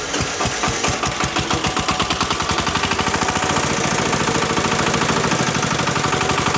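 A Forte 10 hp walk-behind tractor with an electric starter fires up and settles into a loud, close, rapid chugging of a single-cylinder engine, with a steady pulsing knock throughout and no voices.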